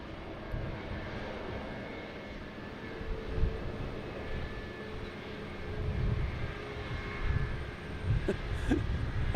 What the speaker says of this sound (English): There's Alaskan Airlines firing up there.